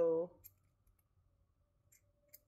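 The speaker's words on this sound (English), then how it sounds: "These scissors suck." Dull scissors snip a few times through holiday ornament craft material, giving sparse, faint clicks after a brief voice at the start.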